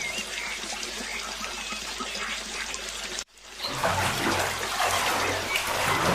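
Cartoon water splashing accompanies a crow bathing, a steady sloshing wash that breaks off abruptly partway through, then returns louder and fuller.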